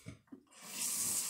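Tap water runs into a home bathroom sink to rinse hair down the drain, a steady close hiss that swells up after a couple of soft knocks and continues unbroken to the end.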